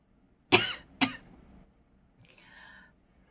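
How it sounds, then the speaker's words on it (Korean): Two sharp, close coughs in quick succession, followed by a brief soft vocal sound in a quiet radio studio. "아유, 기침이."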